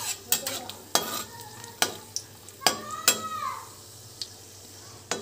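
Cashews frying in oil in a pan for biryani, heard as a soft sizzle broken by repeated sharp clinks and scrapes of a spoon stirring against the pan.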